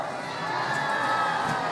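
A crowd cheers and shouts steadily at a 7.5 tonne truck destruction derby, a dense continuous roar of many voices with no break.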